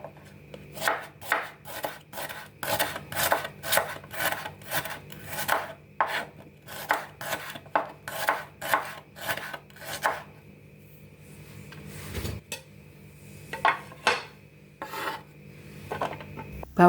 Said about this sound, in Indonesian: Bawang merah sudah diiris-iris tipis, sisihkan.